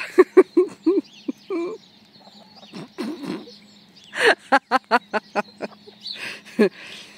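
Chickens cluck and squawk in agitated bursts, a hen and rooster squabbling nearby with sharp, rapid calls and pauses between.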